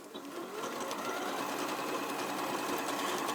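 An Elna 720 PRO sewing machine stitching at high speed, running on its start-stop button rather than a foot pedal, gives off a steady, continuous whirring hum close up, with no talking.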